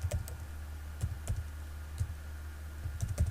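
Light clicking keystrokes on a computer keyboard as a repository name is typed, a few quick bursts of taps with short pauses between, quiet and close.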